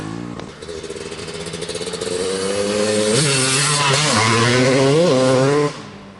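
A 1999 Honda CR250R two-stroke motorcycle engine revs loud and close, climbing from a ragged idle into repeated high-pitched throttle blips before cutting off abruptly.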